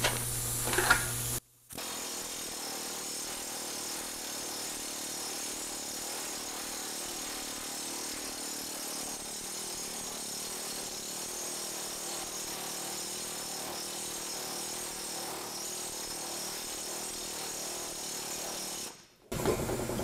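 A pneumatic planishing air hammer running steadily on aluminum or steel sheet, a rapid, buzzing hammering on metal that holds for many seconds, starting and stopping abruptly.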